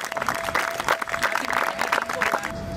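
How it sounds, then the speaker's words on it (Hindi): A classroom audience at a school social science presentation claps together, a busy, uneven patter of many hands lasting a few seconds at moderate volume with a faint steady tone beneath. "तो एक बार जोरदार तालियां हो जाएंगी"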